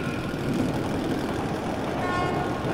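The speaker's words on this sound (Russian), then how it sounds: "Поезд должен быть где-то рядом." An approaching metro train in the video game Metro: Last Light, heard as a steady, dense rumbling roar with a faint rising whine, continuous and fairly quiet throughout.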